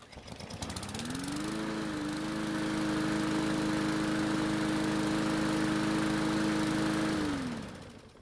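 A lawn mower engine being started for spring cranks over and catches, then runs at a steady, loud drone for several seconds before winding down at the end.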